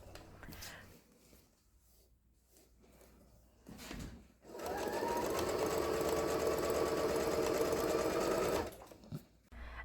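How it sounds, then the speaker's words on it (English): A sewing machine stitching through layers of kitchen towel fabric: soft handling noises first, then the motor hums into a steady, fast run for several seconds before stopping. "once I went little by little and got it through that first 1/2 inch, I was able to really start sewing at the same speed"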